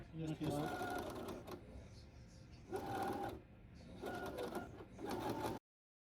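A sewing machine stitches fabric in close, rapid mechanical bursts of whirring needle strokes, with short pauses between runs, under a person talking.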